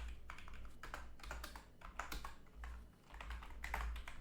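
Code is being typed on a computer keyboard in quick, uneven bursts of close, light key clicks with brief pauses, and no voice is heard.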